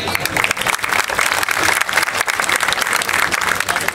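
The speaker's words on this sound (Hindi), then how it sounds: "सो एक बार प्लीज अपने लिए एक बार जोर से तालियां।" A crowd at a group motorcycle ride event breaks into loud, sustained applause and clapping that fills the whole moment, dense and close with a few voices mixed in.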